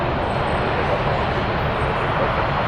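A large airliner passes very close at Toronto Pearson airport, its engines a loud, steady broadband roar that fills the whole clip without letup.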